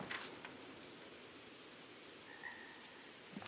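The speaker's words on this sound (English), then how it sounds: "Rain's slowing me down." Steady rain from the video game Terra Randoma, a soft, even hiss of falling drops that holds at low volume throughout with no voices.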